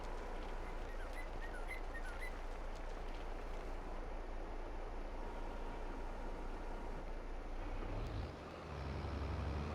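A tractor engine in Farming Simulator 22 drones steadily and heavily throughout, a dense continuous roar that briefly dips and surges near the end.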